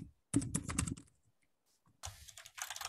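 Bursts of rapid typing on a computer keyboard, close and fairly loud, with a quick rattling run of keystrokes, a pause of near silence, then more clustered clicking.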